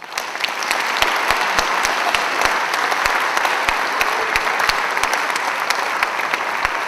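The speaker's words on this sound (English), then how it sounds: "so why don't you give them one more round of applause" Loud, sustained audience applause for a high school spring orchestra and chamber ensemble concert, a dense crowd of clapping hands with a few sharp claps popping out clearly, continuous to the end.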